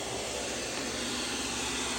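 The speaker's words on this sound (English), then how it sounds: "Right now, this is actually operating with the mop." An ONSON robot vacuum runs in mop mode, giving off a steady, even whirring roar that holds at the same level throughout, close by, with no voices.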